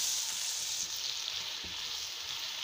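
Cumin seeds and black peppercorns frying in oil in a pan, a continuous bright hiss and sizzle held at an even, moderate level with faint stirring underneath and no talk.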